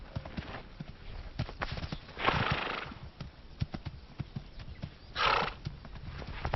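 Wild horses in a band, with mares scuffling after a mare rejects a young stallion. Hooves thud and clip-clop irregularly, broken by two loud squealing neighs, one early and one near the end.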